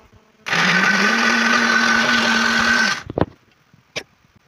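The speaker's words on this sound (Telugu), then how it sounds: "ఇప్పుడు దీన్ని అయితే మిక్సీ పడుతున్నా." Mixer grinder blending sorrel leaf chutney with salt: a loud steady motor whir runs for about two and a half seconds, then cuts off, followed by a couple of brief clunks.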